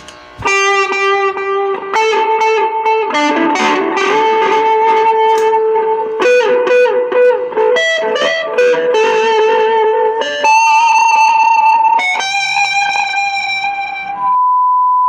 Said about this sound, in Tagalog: Pero pag binaba ko, yun, napakaganda sa akin ng delay sa totoo lang. So, dagdag ko siya ng distortion.